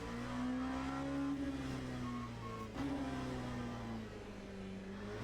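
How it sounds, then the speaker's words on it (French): Engine of an LMP2 prototype race car in the Le Mans Ultimate racing game, droning loud and steady with rising and falling pitch as it accelerates through the gears, no talk over it. "ça accélère tellement plus fort par contre"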